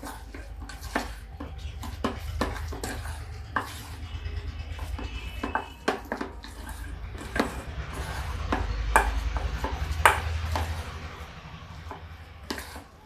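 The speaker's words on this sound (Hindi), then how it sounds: "ये हरे टमाटर की चटनी और ये हरी धनिया, दोनों चीज़ें हम इसमें मिक्स करेंगे।" Green tomato chutney and fresh coriander are mixed together in a bowl, producing irregular close taps, clinks and knocks of a utensil against the dish over a low background hum, without speech.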